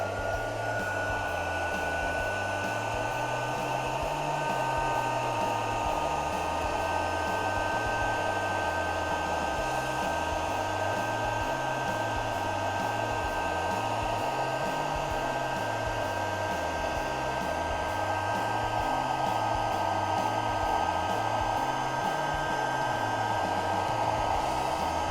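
A heat tool blasts hot air steadily to melt clear embossing powder over black ink, a loud continuous blowing hiss with a low pulsing hum that holds for the whole stretch without pause.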